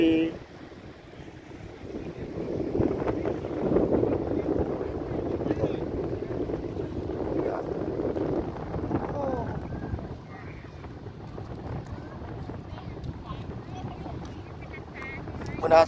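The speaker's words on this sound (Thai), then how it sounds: "ลมพัดวี" Wind blows steadily along the bank of the Mekong river, a broad soft rushing with gusty swells and microphone buffeting, while someone talks over it at moderate distance.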